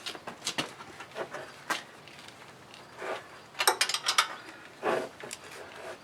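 Bolts on a Jeep JK rear axle are run down by hand during an axle shaft change, producing scattered bursts of quick ratchet clicks between quiet gaps, fairly close.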